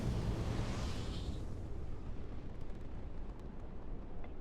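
In the game Starfield, a spaceship engine from a ship parts mod roars with a broad, heavy rushing thrust that slowly fades into a lower, steady rumble with faint crackles.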